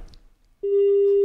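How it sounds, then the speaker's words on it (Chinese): A telephone busy tone sounds after a caller hangs up on a radio call-in line: a brief click, then a loud, steady electronic beep tone that continues alone. "大家应该听到我刚才那个嘟的声音是吧"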